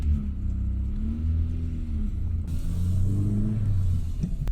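An older Volkswagen Golf GTI pulls away, heard from inside or close by, with a loud, low engine rumble that swells and falls as the revs climb through the gears.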